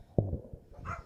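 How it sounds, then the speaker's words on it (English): A dog gives a single sharp bark up close, followed by a faint second yip, in an otherwise quiet indoor space. "We got dogs barking."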